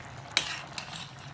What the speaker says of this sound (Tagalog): Haluin lang natin ito